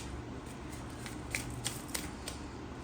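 Tarot cards being shuffled by hand, several soft quick riffling flicks over a faint steady background hum, close but quiet.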